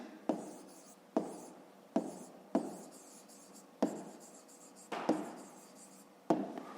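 A pen writes numbers on paper during a fifth-grade maths exercise in a quiet room: soft scratching strokes, with sharper taps roughly every second as each new mark starts.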